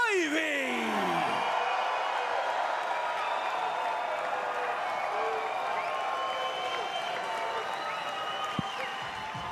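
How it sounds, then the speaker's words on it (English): Live crowd at a PFL mixed martial arts event cheering and applauding for a hometown fighter after a submission win, a sustained wash of claps and whoops at moderate distance, fading slightly toward the end. "The local crowd with a little pop for the hometown boy, Anthony Ivy."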